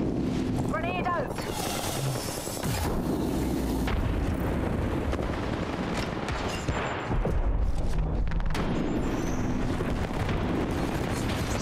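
A grenade explosion in Apex Legends erupts amid a continuous wall of gunfire and battle noise, loud and dense throughout with heavy booming bursts, while a player talks over the action.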